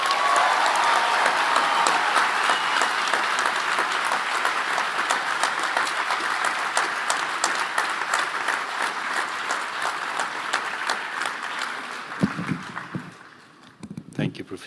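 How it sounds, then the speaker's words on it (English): Sustained audience applause fills a hall at a medicine graduation pledge ceremony, dense clapping with sharp individual claps that thins out near the end as a voice begins to speak. "Let's give everybody who achieved such wonderful marks and who've got their degrees today a big round of applause"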